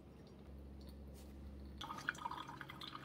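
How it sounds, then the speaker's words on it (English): A Braun MultiServe KF9150 coffee machine running an automated rinse cycle during descaling with vinegar, water trickling and dripping out near the brew outlet after a low motor hum, fairly close and quiet. "So water's coming out where the coffee maker is. Right now it's coming out the coffee maker. It's doing a rinse there."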